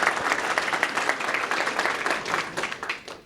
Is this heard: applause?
yes